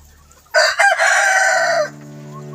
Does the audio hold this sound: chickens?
yes